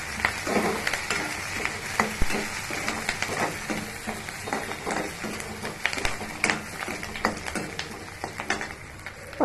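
Whole spices such as cloves, cumin and cinnamon bark frying in oil in a pan for a tomato curry, a steady crackling sizzle with scattered pops and a few stirring scrapes throughout, no talking.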